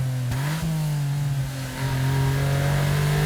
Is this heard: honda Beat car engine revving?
yes